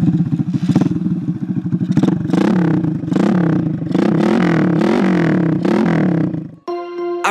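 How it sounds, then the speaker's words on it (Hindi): A Hero Splendor motorcycle modified into a mini Bullet, its exhaust loud and close, revving repeatedly in throaty pulses for about six seconds before music cuts in at the end. "आप एग्जॉस्ट की साउंड नहीं सुनवाते, तो भाई अभी इसको ब्लो अप करते हो, फिर आप देखो कितनी बढ़िया और कितनी मेसमराइजिंग इसकी आवाज़ है"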